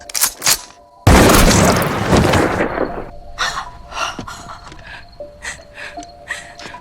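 A shotgun blast in a horror-film scene, one sudden loud boom that breaks from quiet and rings out for about two seconds, followed by scattered faint knocks and scuffles.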